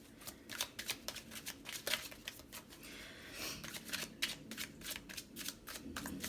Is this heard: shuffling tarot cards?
yes